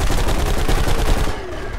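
Rapid automatic gunfire from the shooter video game BlackSite: Area 51, a dense, loud burst of repeated shots that thins out toward the end of the short stretch.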